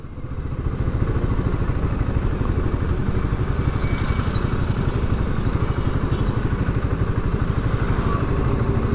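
A Royal Enfield Himalayan 450 motorcycle engine runs steadily in first gear at about 10 km/h with hazards on, a loud, even, rapid pulsing chug that holds constant throughout.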